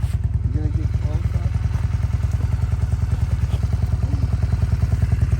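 Honda motorcycle engine running, a steady rapid thumping idle close by, used to power a ski tow rope, with brief voices talking over it.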